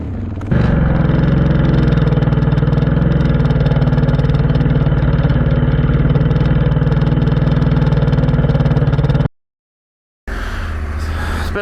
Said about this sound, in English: Should we try and push it forwards with the engine running?